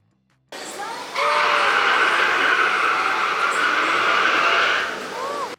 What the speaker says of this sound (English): T-Express also makes a deafening screech when it navigates the steel track at the start.